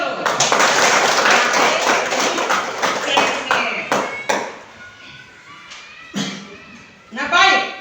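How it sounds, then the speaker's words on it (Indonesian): Classroom applause from students, a loud burst of clapping that fades after a few seconds, followed by scattered single claps and a voice speaking. "Baik, tepuk tangan dulu."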